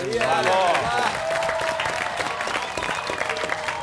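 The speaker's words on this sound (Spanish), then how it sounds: "otro aplauso para el viernes, vamos" A television studio audience claps and cheers loudly for several seconds, a dense crowd applause with voices and some melodic sound running through it near the start.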